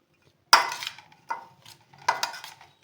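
Mukhwas ingredients and beetroot stirred together in a dish, three separate close rattling scrapes of a spoon through dry pieces with quiet gaps between them.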